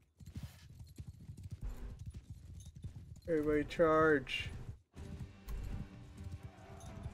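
Rapid hoofbeats of galloping horses in the video game Mount & Blade II: Bannerlord drum beneath a shouted battle cry, with a wavering high-pitched call rising over the thudding.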